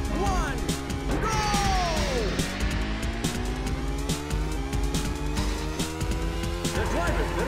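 Cartoon race cars in the Wacky Races arcade video game roar along with buzzing engine tones, pitch sweeps and tire squeals, layered with game music and effects throughout, continuous and loud.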